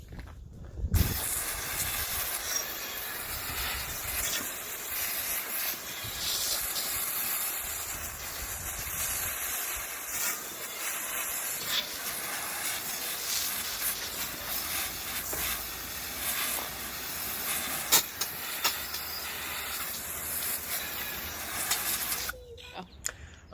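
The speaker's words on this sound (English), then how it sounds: "use this garden hose to just blast the drivetrain, try to get as much grit and dirt and grime off as we can" Garden hose blasting water onto a bicycle drivetrain to wash off grit and grime, a continuous close hissing spray that holds steady for over twenty seconds with small splashing variations and brief stops at the start and end.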